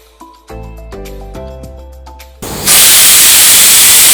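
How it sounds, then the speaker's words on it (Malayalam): A pressure cooker on the stove suddenly bursts into a loud, steady hiss of escaping steam, preceded by a few seconds of quieter clinks and tonal kitchen sounds. "കുക്കറിൽ ഒരു ശബ്ദം കേട്ട് ഞാനിപ്പോൾ തീ ഓർക്കാൻ പോകുന്നു"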